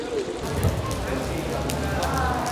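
Rain pours steadily around a bridge in Ottawa where people are sheltering, making a constant dense hiss with no break.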